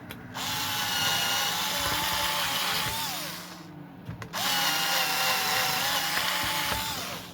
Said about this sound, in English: You can see the drill's making pretty short work of this.